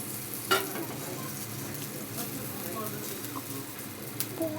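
Sesame seeds sizzling in a hot pan while a sweet potato cutlet cooks, a dense continuous frying hiss with a few sharp pops and clicks close by.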